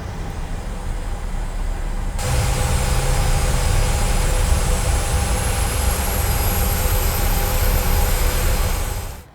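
Boeing 737 APU starting up in Microsoft Flight Simulator: a steady broadband turbine roar that jumps louder about two seconds in, then holds constant with a faint rising whine before cutting off.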